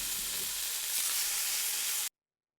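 Diced onion frying in hot oil with cumin seeds: a steady, close, loud sizzle that holds for about two seconds and then cuts off abruptly to silence.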